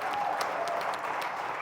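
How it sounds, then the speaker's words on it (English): Audience applauding at a business talk, a steady dense wash of clapping from many hands, close and fairly loud throughout with no speech. "you can clap for that"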